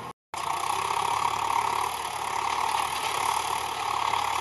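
A New Holland TS90 tractor with its stock exhaust runs steadily at a soft, even engine note, the sound continuous and moderately loud after a brief silent gap at the start.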